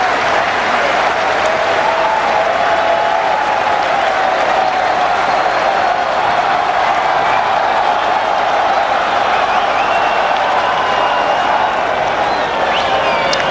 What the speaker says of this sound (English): Great atmosphere now here. It's been quite subdued for most of the day, but the crowd are getting into it.